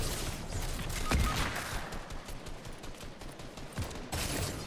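Enemy gunfire in a Fortnite Reload match: a steady rattle of rapid shots runs the whole stretch, with a sharp burst near the start and another near the end, loud and close without talk.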